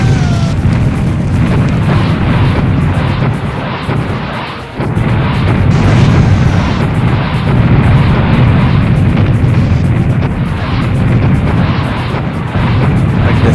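Heavy booming rocket explosions and rumbling blasts roar almost continuously from Serious Sam HD, fought at the Temple of Hatshepsut, loud and dense with a brief dip midway and no talk.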